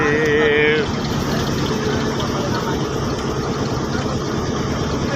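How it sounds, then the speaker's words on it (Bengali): A trawler's engine drones steadily as the boat runs close along the Sundarbans forest shore, a loud, continuous low rumble, with a short burst of singing at the start. "আমাদের ট্রলারটি একদম জঙ্গলের তীর ঘেঁষে যাচ্ছে"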